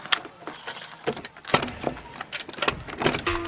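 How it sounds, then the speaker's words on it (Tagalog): Metal keys jangling and clinking up close while unlocking a house door, with irregular rattles and scrapes at the lock over a few seconds. "So ito na ang ating susi. Bubuksan na natin ang ating door."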